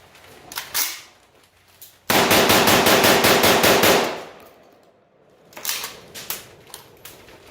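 Kalashnikov USA Komrad 12 shotgun with a light load kit firing in semi-auto, a rapid string of loud sharp reports lasting about two seconds, followed by fainter scattered clicks and shots.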